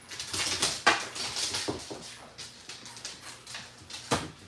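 Dogs excited over thrown meaty bones outdoors: quiet scattered yelps, whimpers and clattering bits in an irregular flurry, somewhat distant and faint.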